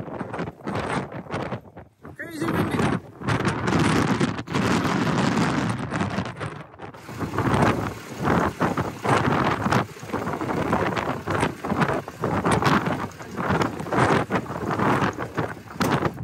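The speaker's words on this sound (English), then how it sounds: "Crazy windy." Strong gusts of wind buffet the microphone in loud, roaring bursts, rising and falling continuously over the whole stretch.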